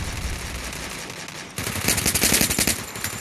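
Rapid automatic gunfire in the mobile shooter game Free Fire, loud bursts of dense machine-gun shots that intensify in the second half of the clip.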